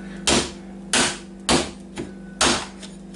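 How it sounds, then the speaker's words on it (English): Four sharp, loud whacks strike a plastic hockey mask to chip pieces off it, landing at an irregular pace with a few softer taps between them, with no voices. "you can just start whacking it until pieces start coming off"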